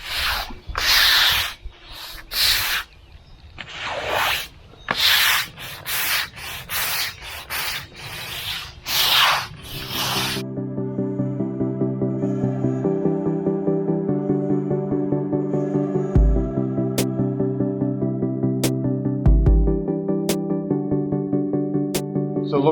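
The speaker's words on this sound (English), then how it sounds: "flood the area, and a stiff bristled broom. Just give it a good scrubbing." A stiff-bristled broom scrubs a flooded patio in about ten loud, rhythmic, rasping strokes up close. The scrubbing then stops and a steady tonal hum carries on alone.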